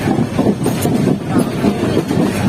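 Interior of a crowded passenger train bound for Cox's Bazar, a continuous low rumble with rhythmic wheel clatter on the rails, steady and fairly loud, with no clear voices.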